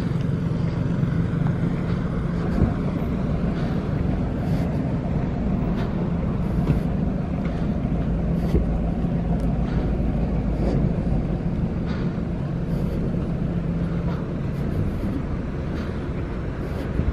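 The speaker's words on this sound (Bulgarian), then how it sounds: "Големите лодки." Big boats on open water give a low, steady engine rumble with faint splashing, continuous and fairly loud throughout.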